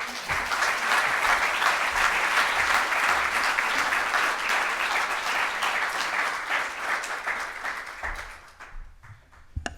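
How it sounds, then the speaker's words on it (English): A crowd at a Miami Dade College tech press conference gives Mayor Francis Suarez a loud, sustained round of applause. The dense clapping holds steady for several seconds, then thins and dies away near the end. "Another round of applause for Mayor Francis Suarez"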